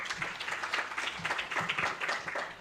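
Applause and clapping from an audience at an AI governance panel session in Tanzania, welcoming Daniel Castro; steady, moderately loud, with some voices mixed in, lasting a few seconds.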